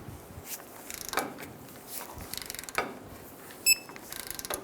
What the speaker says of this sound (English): We're going to torque down our castle nut to 55 foot-pounds.